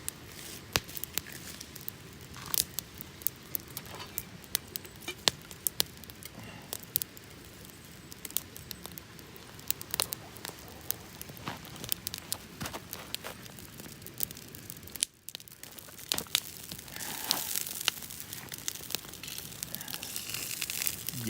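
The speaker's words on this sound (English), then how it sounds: "Unwrap these bad boys a little bit." Food is unwrapped from crinkly wrapping during a bushcraft lunch outdoors, giving soft, irregular crackling and rustling close by at low volume, with a brief quiet gap and then busier crinkling.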